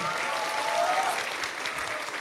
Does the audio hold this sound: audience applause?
yes